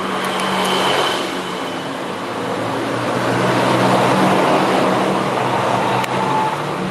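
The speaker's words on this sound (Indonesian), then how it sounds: "Banyak suara motor." Motorbikes and other traffic pass along the street in front of a shop, a loud, steady engine rumble and roar that swells and fades without a break.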